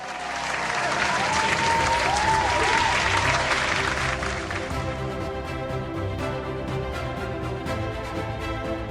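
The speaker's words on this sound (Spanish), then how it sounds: "Ro pone los efectos de la gente aplaudiendo" Applause sound effect played during a comedy awards show, crowd clapping that swells loudly early on and then continues at a steady level, with a sustained tone and faint musical or vocal traces mixed in.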